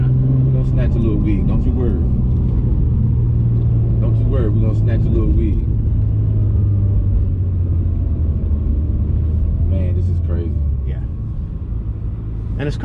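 A twin-turbo Acura NSX accelerates hard in launch mode, its engine droning loudly and rising in pitch through repeated revving surges, heard from inside the car with a voice talking over it.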